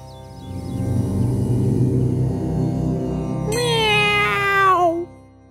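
A cartoon cat posing as a chanting monk lets out one long, rising-then-falling meow that stands out clearly over a steady, droning musical background.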